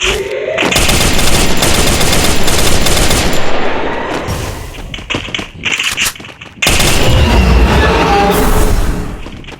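Rapid automatic bursts from an M4A1 rifle in a shooting video game, loud and close, firing in long strings that break into short stuttering volleys and a pause before resuming.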